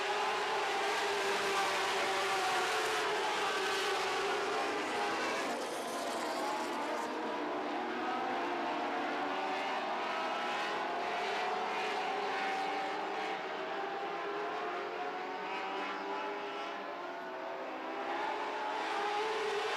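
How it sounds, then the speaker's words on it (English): Lightning sprint race cars roar past on a track during a feature race, a dense, distant engine drone with rising and falling pitch sweeps as the cars shift gears down the straightaway. "You'll hear these cars shift about halfway down the front straightaway. Most of them will be going from 2nd gear to 3rd gear."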